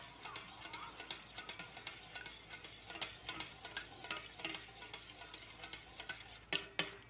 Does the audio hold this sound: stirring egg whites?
yes